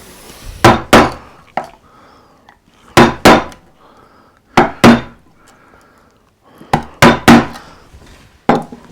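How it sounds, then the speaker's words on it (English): A gouge cuts into wood while carving a coastal relief, giving sharp, close knocks in clusters of two or three, each followed by a short scraping tail, with quiet gaps between. "Where's my gouge? Into this area here, and coming down here, removing wood."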